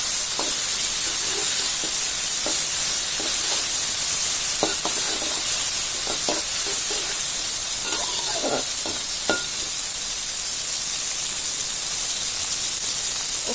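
Garlic, red onion and small green chilies sautéing in a wok, a loud, steady hiss of sizzling oil with scattered soft scrapes and taps of stirring throughout.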